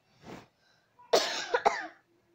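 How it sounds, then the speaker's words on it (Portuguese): A person coughs: one soft cough, then a pause and a harsh burst of two or three close coughs, near and fairly quiet, with no talk. "tô com tosse"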